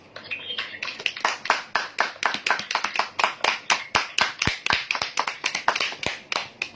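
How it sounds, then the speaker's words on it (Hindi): A church congregation claps together in a steady, rapid rhythm at a worship service, the sharp hand claps loud and close, filling the space for several seconds with no talk over them. "Why don't we clap for the Jesus miracles?"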